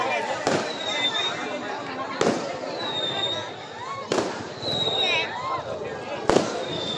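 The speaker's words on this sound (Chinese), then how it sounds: "哇，烟花。" Fireworks burst outdoors during Chinese New Year celebrations, four sharp bangs spaced a couple of seconds apart, each followed by crackling and whistling trails, with people chattering and exclaiming around them.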